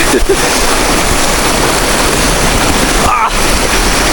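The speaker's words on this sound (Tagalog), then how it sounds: "Waterfalls." Steady, loud broadband rush of a waterfall on a farm in San Jorge, Samar, filling the scene continuously, with brief voices and a short break near the end.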